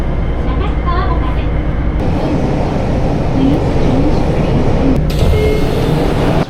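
Subway train ride in Japan: a continuous loud rumbling roar of the moving car with rattling, steady throughout, with a voice speaking briefly under it.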